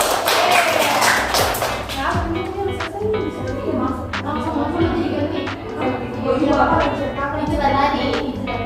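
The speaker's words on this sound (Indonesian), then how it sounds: "Oke, tepuk tangan dulu." Schoolchildren in an Indonesian elementary classroom clap along, a few quick bursts of hand claps and taps mixed with thumps, shuffling and children's voices talking over them.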